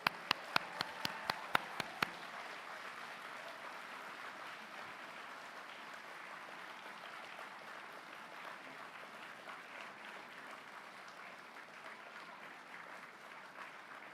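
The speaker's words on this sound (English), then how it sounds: "thunderous round of applause" Graduates at a business school postgraduate ceremony give their families a prolonged round of applause in a large hall, opening with a few sharp individual claps before the full crowd's clapping holds steady throughout.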